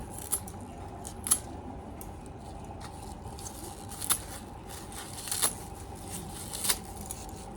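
Kharkol leaves and stalks being cut by hand in a home kitchen, heard as a few faint, sparse snips spaced a second or so apart over a low background hiss.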